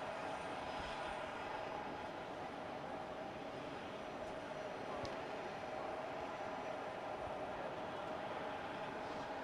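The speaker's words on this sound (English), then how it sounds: "this particular aircraft that you see flying has a CFM LEAP 1A" An Airbus A320neo-family airliner with CFM LEAP-1A engines flies a display at the Paris Air Show, its distant engine roar broad and steady throughout while a commentator talks over it.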